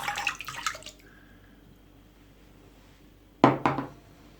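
Water is poured into a bowl for börek dough in two short splashing bursts at the start and near the end, with a quiet pause between them.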